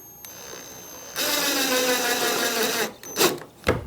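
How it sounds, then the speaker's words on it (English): A powered screwdriver bit drives a tiny screw home for an armoire build, giving a steady close motor whir for about a second and a half, followed by a few brief clicks and bumps as it stops. "Use a very new, like never used bit on these tiny little screws. And screw this one home."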